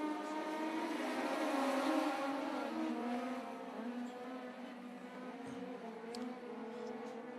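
Several race cars pull away at the start of a heat race at 141 Speedway, a layered engine drone with rising revs that swells and then eases to a steady hum, heard at a moderate distance.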